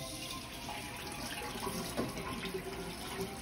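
Very warm water runs from a kitchen tap for bread dough, a soft continuous splashing and hiss into a sink, fairly quiet and steady throughout, with no talk.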